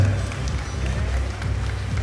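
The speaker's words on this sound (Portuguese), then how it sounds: "Uma salva de palmas, galera." Dense crowd applause fills a talk stage at Brasil Game Show, steady clapping with a low rumble, loud and continuous throughout.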